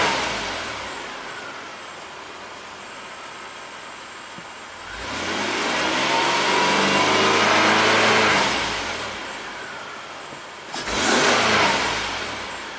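Third-generation Toyota 4Runner engine idling, then snapped to high revs twice: a long rise and fall near the middle, then a shorter sharp blip, loud and close with no talk.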